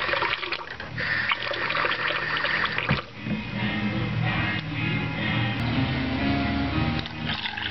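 Water poured into a pot while making mashed potatoes for a quick supper, a steady continuous splashing pour that runs loud and close for several seconds with a brief dip midway.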